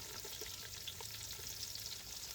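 Onion, garlic and bay leaf frying in hot oil with whole spices, a soft continuous sizzle with faint crackles and a few light pops, quiet and close.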